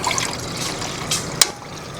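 Water poured into a cooking pot at a rainy campsite, a short close trickle and splash with a brief louder burst near the end.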